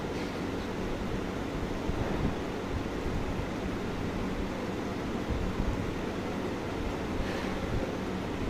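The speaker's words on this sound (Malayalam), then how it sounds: "എൻ്റെ വെള്ളം ഇവിടെ തിളയ്ക്കുന്നതেഉള്ളൂ" Water heats toward a boil in a pot on a stove for green tea, a faint, steady hiss and low rumble that continues evenly with no talking.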